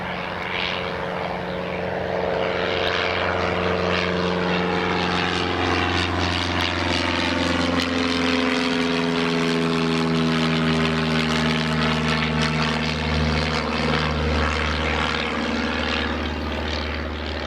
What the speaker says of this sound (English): that's the Piper just departing